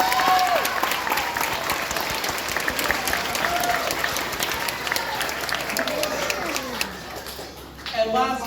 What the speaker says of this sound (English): Students, let's give them a big round of applause.